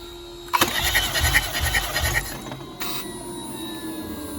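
A BMW B48 four-cylinder engine cranks over on the starter during a compression test, a loud rhythmic churning burst of about two seconds that starts sharply and then stops, with a steady background hum continuing afterward.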